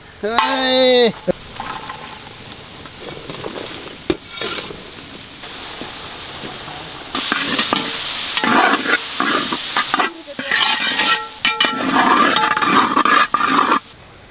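Fried elephant foot yam cooks with masala for a wedding-style cutlet batch, stirred vigorously with loud scraping and clattering against the pan over a steady sizzle; a brief voice sounds at the very start.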